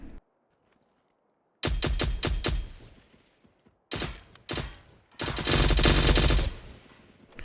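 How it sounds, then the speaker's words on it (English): Automatic gunfire fired from the hip in the survival game Miscreated, three loud close bursts of rapid shots separated by short silences, the last burst longest. "I was just shooting from the hip there"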